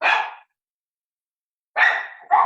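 Dog barking indoors at home: one sharp bark, a pause of over a second, then two quick barks in succession, loud and close with no talk over them.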